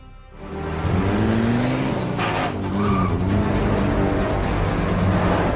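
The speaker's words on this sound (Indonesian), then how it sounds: "Beruntungnya Mei datang tepat waktu dengan menggunakan mobil kesayangan milik Chris." A car roars up in an action film scene: a loud, sustained engine with rising revs and squealing tires, close and continuous.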